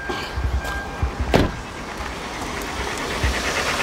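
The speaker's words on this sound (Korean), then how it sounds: "자, 시동 한번 걸어볼게요." A Hyundai NF Sonata with about 138,835 km and little fuel is started: a short cranking burst, then a steady engine running under broad noise, close by.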